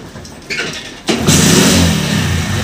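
A motorbike fitted with an LPG kit cranks with a couple of short starter bursts, then catches and settles into a steady, close mid-pitched idle that holds loud and even.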